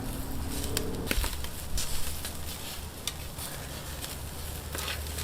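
Shashlik skewers and steaks of picanha and ribeye, with pineapple, sizzling on a grill, a steady crackling fry with small pops and faint clinks, no talk.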